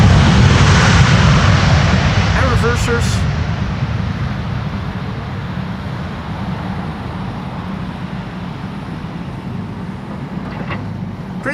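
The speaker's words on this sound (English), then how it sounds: "Delta Airlines Flight 162, returning from Minneapolis" A Delta Airlines airliner landing on the Polderbaan runway at Schiphol airport roars loudly at first, then the rumble gradually fades into a broad, steady wash of engine noise and wind.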